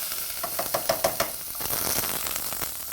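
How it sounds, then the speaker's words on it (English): White onions sauté in a pan with a steady crackling sizzle, broken early on by a quick run of sharp spoon-against-pan taps before the frying settles into an even hiss. "begin by sauteing some onions. Now, I'm using white onions for this process"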